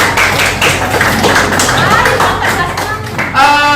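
Students in a classroom applaud group 2 after their presentation in a volleyball lesson, a dense, steady burst of clapping and tapping that lasts the whole stretch, with a voice rising faintly near the end.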